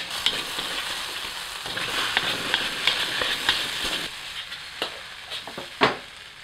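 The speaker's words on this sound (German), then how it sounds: "Die Sprossen, Knoblauchschnittlauch und die Hälfte der Erdnüsse dazugeben und für eine knappe Minute Rührbraten, also rühren, rühren, braten" Bean sprouts, garlic chives and peanuts are stir-fried for pad thai. The steady, close hiss of sizzling runs under repeated clinks and scrapes of stirring, with one sharper knock near the end.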